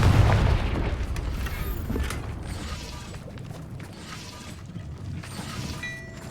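A Confringo spell blast in the video game Hogwarts Legacy opens with a loud low boom that rolls into a rumbling, creaking decay, fading under steady game ambience.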